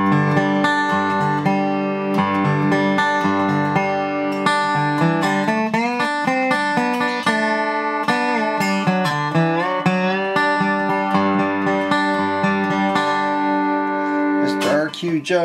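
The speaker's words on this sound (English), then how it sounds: "I'm really liking the sound of this guitar." Resonator guitar played steadily with bright, twangy plucked notes and sliding melodic runs, loud and close, ending with a quick strum.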